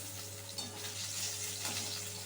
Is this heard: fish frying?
yes